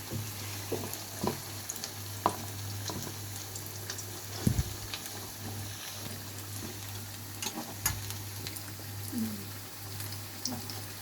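Prawn fritters fry in oil in a home kitchen, a quiet, steady sizzle with occasional pops and clinks from stirring or turning, close by.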